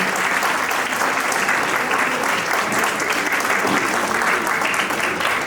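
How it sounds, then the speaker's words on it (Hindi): Audience at a play school annual day ceremony applauding the children, with steady, dense clapping from a large crowd that continues unbroken and fairly loud throughout. "तालियां बजाइए दो से बच्चों के लिए।"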